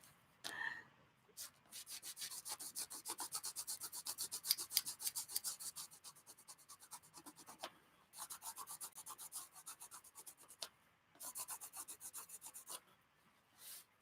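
Steady rasping strokes of sharpening, probably a blade or edge being filed, in long runs of fast scraping broken by short pauses, close but quiet with no voices.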